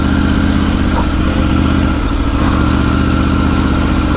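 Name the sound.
Triumph Tiger 900 Rally motorcycle riding through desert sand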